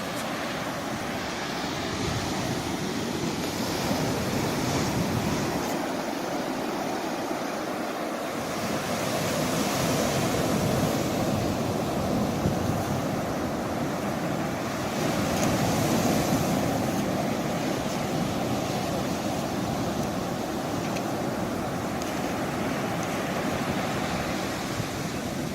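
Ocean surf rolls onto a Costa Rican shore in a continuous wash of breaking waves, with gusts of wind buffeting the microphone and no talking.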